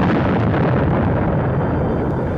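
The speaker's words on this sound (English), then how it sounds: "the explosion of the forward magazines of the Maine" The forward magazines of the battleship Maine explode in 1898, a loud, dense, rumbling roar that fills the whole short stretch with deep, sustained force and no voices.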